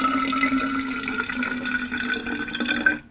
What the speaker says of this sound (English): I'm going to pour the rest into my thermos and then fill my cup up.